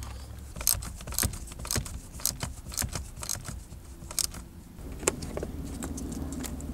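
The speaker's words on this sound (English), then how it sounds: "I am gonna snug those the way that they were with the same socket wrench here" Metallic clicks and clinks as a socket wrench with a T30 Torx bit snugs bolts on a 2008 Toyota Matrix steering column, quick rattling bursts close by, with a low hum in the background.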